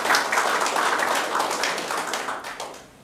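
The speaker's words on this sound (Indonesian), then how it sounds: "Mari kita beri aplaus yang luar biasa" A crowd at a live state address applauds, with a steady wash of many hands clapping that holds for a few seconds and then fades toward the end.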